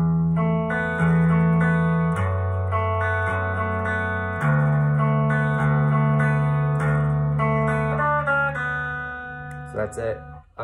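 Electric guitar playing a part with a bass line moving underneath, sustained chords over shifting low notes, heard alone with no talk. It starts slowly, then trails off with a few plucks near the end.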